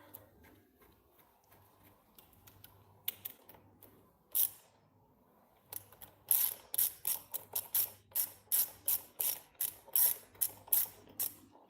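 Socket ratchet clicking while turning fasteners on a PRM 160 gearbox, scattered ticks at first, then a steady run of rapid loud ratchet clicks in regular bursts.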